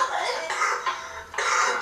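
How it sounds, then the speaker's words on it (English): Four short, harsh coughs, close and fairly loud, come in quick succession with brief gaps between them inside a smelly abandoned home. "Tell me if this is a fake cough or not."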